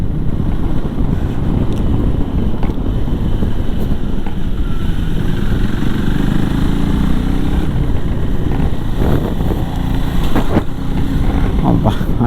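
A KTM Adventure 390 motorcycle engine runs steadily close by on the way to its service in Bangalore, a dense rumbling drone overlaid with wind noise and a few sharper knocks.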